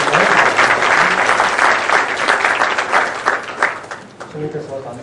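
Audience applause welcoming a professor to the podium at a humanities lecture held at Changwon court, a dense, loud wash of clapping that tapers slightly near the end with some faint voices beneath.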